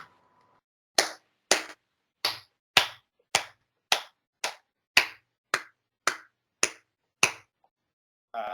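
Someone claps slowly and alone, about thirteen crisp, evenly spaced hand claps in a quiet room, each ringing briefly before the next.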